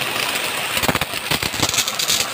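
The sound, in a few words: power sprayer running at pressure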